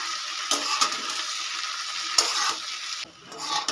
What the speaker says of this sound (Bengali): এবার আমি 2-3 মিনিট ধরে কুলগুলোকে একটু ভাজা ভাজা করে নেব।